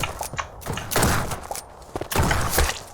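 Shotgun blasts in the video game Shotgun Farmers come in quick irregular bursts, loud and close, with thumping impacts between them.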